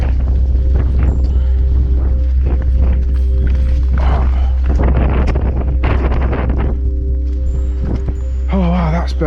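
Strong wind buffets the microphone on a Helvellyn hike in horrid conditions, a loud steady roar with gusting bursts throughout, while a voice speaks briefly over it.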